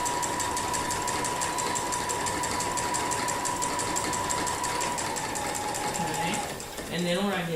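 A sewing machine runs steadily while free-motion quilting interlocking curves, a continuous fast rhythmic stitching hum close by, stopping near the end with a few brief squeaky sounds.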